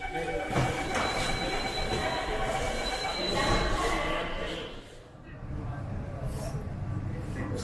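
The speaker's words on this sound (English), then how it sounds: "So we have another metro arriving on the opposite platform." A Mumbai Metro Aqua Line train pulls in at the opposite platform, a steady rolling rumble with faint wheel squeal that dips briefly, then resumes. A voice talks over it.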